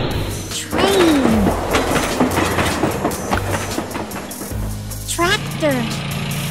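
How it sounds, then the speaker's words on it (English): A cartoon train rolls along steadily with rhythmic clickety-clack of wheels on rails, loud and close throughout, with a whistle-like rising tone near the end and bright musical accents layered over the rumble. "Train."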